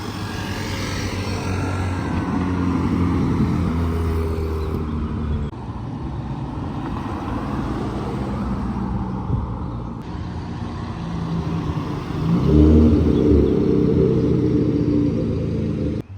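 A Ferrari SF90 XX supercar engine gives a continuous low rumble, with a slight dip partway through and a fuller, louder swell near the end.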